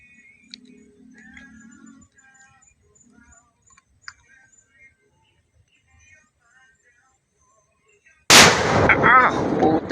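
A 6-gram firework explodes with one sudden, very loud, booming blast near the end, following several seconds of near silence broken only by faint small noises.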